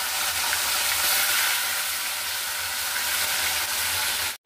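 Hilsa fish frying in hot oil, a steady loud sizzle and crackle running continuously, then cutting off abruptly at the end.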